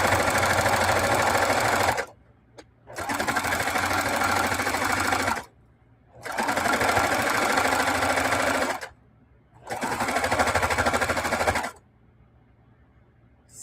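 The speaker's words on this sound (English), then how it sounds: "I'm stitching near a ditch." A sewing machine stitching a quilt runs in four steady bursts of a few seconds each, with short quiet pauses between them. The whir is close and loud and no one speaks.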